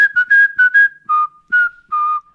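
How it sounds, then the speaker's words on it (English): Someone whistles a short tune, a clear, close series of pitched notes in a quick run, then a few longer held tones, with no other sound around. "Somebody's whistling a song, right?"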